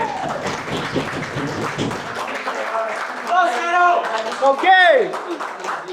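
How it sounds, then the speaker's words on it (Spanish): Audience at a Paraguayan freestyle rap battle claps and shouts briefly at an MC's cue, with someone speaking over the crowd and an excited voice rising near the end. "¡Fuerte el aplauso!"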